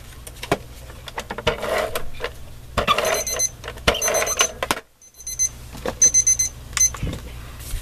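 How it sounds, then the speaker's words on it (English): A timer alarm rings in bursts of rapid high electronic beeps, with a short pause between groups, alongside faint handling clatter in a quiet room. "So there goes a timer."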